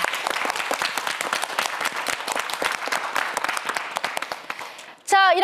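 A studio audience on a Korean TV science quiz show applauds a student contestant with dense, sustained clapping for about five seconds. A voice begins speaking right as the clapping ends.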